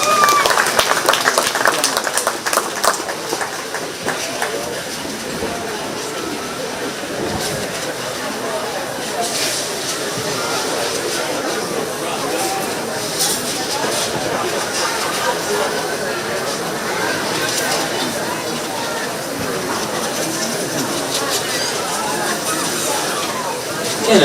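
Applause from a county fair crowd at a 4-H/FFA dairy goat show, a steady wash of clapping lasting the full stretch with mixed background noise throughout and no talk over it.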